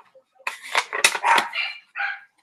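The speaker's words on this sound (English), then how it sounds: "You're going to probably hear dogs and" Several sharp dog barks and yips come in a quick burst, close by and fairly loud, with short pauses between them.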